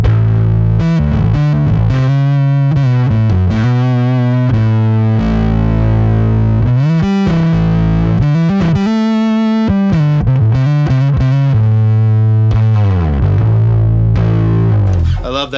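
Bass guitar played through a Catalinbread Giygas fuzz pedal with the EQ backed off, giving a loud, thick, sustained distorted tone over a melodic line of held and moving notes, with no talking.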